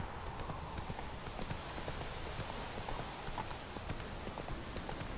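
Horse hooves clip-clop steadily in The Witcher 3, a quiet, even gait over a soft bed of rain-like ambient noise.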